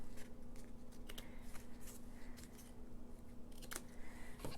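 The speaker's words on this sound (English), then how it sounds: "And then we're just going to trim that." Scissors trimming paper for a pocket in a 12x12 folio flip book journal, a run of close, quiet snipping and rustling over a steady low hum, with no talking.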